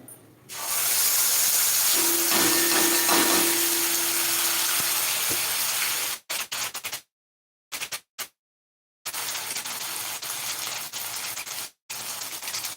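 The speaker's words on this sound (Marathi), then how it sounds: "आता मोहरी सुद्धा आपली छान झाली तर त्यामध्ये आपण हा वाटलेला गोळा टाकून द्यायचा" Ground spice paste hits hot mustard seed tempering in a pan and sizzles as a loud, steady hiss that lasts several seconds, then cuts in and out in choppy bursts, resuming briefly near the end.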